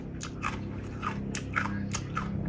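Someone bites and chews a crunchy cow ear biscuit, a firm wavy cracker, producing a rapid series of close, crisp crunches over a quiet background with no talking.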